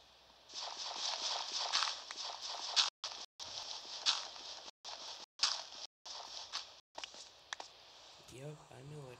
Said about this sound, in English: I can hear it. It's raining out.